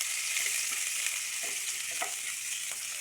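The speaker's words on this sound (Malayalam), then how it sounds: "അതിലേക്ക് നമ്മൾ വെളുത്തുള്ളി ഇട്ട് കൊടുക്കുക." Garlic sizzling steadily in hot oil in a pan with fenugreek for a squid fry, a continuous close crackle with occasional stirring scrapes.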